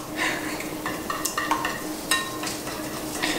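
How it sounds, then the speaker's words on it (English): Eggs being whisked in a bowl for a smoked venison sausage quiche: quick, light clinks and scrapes in an irregular rhythm, close and moderately loud. "We want to whisk this up"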